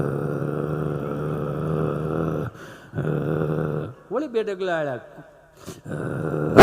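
A male comedian vocally imitates a female dog guarding her puppies, with low, sustained growls that break off and then rise into sharper, shifting growl-barks, with bits of his speech in between.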